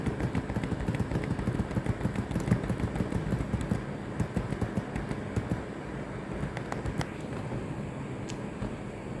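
Typing on a computer keyboard produces rapid, uneven key clicks, busy at first and thinning out toward the end, fairly close and on their own.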